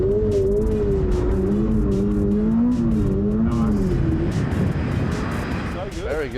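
A Toyota race car sliding under throttle on a circuit, its engine note wavering loud and close as the revs rise and fall through the slide, with a voice speaking over it.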